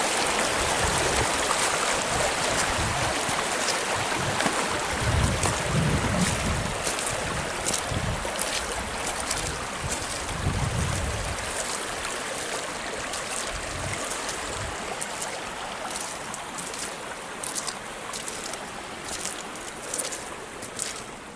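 Water flowing slowly down a widened, rock-lined channel after five inches of overnight rain, a steady broadband rush with wind buffeting the microphone, continuous and fairly close with no talk.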